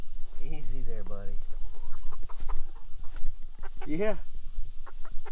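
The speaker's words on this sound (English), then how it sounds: "I think that's definitely a rooster" A rooster nearby gives a drawn-out clucking call, then a shorter cluck a few seconds later, over steady background noise while a person briefly speaks.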